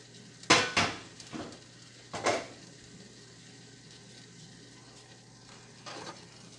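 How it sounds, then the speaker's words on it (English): Food being scraped and spooned from a deep pot into a big skillet of leftovers, with a few sharp clanks of metal utensils against cookware early on, then a quieter scrape and a faint later clink, no talking. "I'm going to take this big skillet and I'm going to transfer what's in my deep pot into this skillet"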